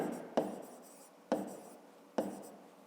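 A pen scratches across paper while math homework is written out by hand, three quiet strokes that each start with a sharp tap and fade into soft scratching, spaced about a second apart.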